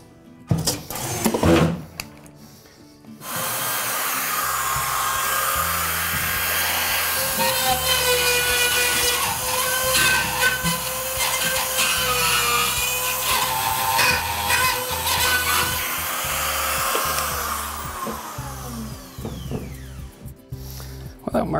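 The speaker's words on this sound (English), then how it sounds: "always cut your holes as you go" Power tool, likely a rotary cutter, boring a hole in drywall during installation, a loud steady high whine running close for most of the stretch, bracketed by brief handling knocks at the start and end.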